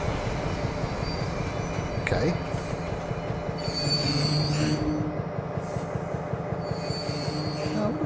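A train in Trainz Railroad Simulator on the Niddertalbahn route rumbles steadily as it slows, with squealing wheels and high-pitched brake whines rising over it while someone speaks briefly.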